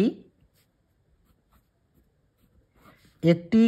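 A pen scratches faintly across a notebook page in sparse, quiet strokes during a long hush, and a voice speaks briefly at the end.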